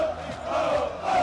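A huge stadium crowd of about 110,000 fans roaring at a Penn State Nittany Lions Whiteout football game in Beaver Stadium, a dense, steady wash of cheering heard from within the stands.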